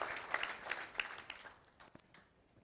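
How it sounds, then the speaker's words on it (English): Applause from an audience at a Manhattan Tech national signing day ceremony for air conditioning and refrigeration students, scattered clapping that starts moderately and fades away within a couple of seconds. "please join me in applauding the next generation of air conditioning refrigeration professionals"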